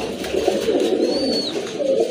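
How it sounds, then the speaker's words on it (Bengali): A pair of pigeons, one male and one female, coo together in soft, continuous low warbling calls, close and steady throughout with no talking. "ডান পাশেরটা হচ্ছে মাদি কবুতর আর এই যে এইটা হচ্ছে আপনার নর কবুতর"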